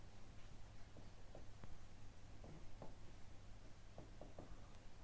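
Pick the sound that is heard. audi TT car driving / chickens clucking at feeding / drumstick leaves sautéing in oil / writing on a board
writing on a board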